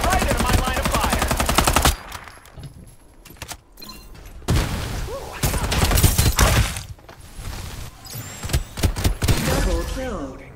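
Automatic gunfire from the online shooter Farlight 84, rapid loud bursts of shots with sharp cracks and debris, broken by short pauses and distant shots, over game sound and a busy mix.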